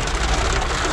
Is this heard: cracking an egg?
no